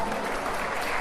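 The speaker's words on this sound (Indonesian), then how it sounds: "Ya, tepuk tangan." An audience applauding at a school Maulid Nabi religious gathering, a dense, steady burst of many hands clapping at once, loud and close, filling the whole moment.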